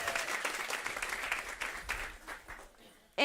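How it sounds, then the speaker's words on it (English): Audience applause at a talk event, fairly quiet and fading out over about three seconds, ending with an abrupt louder burst at the very end. "so give them a round of applause"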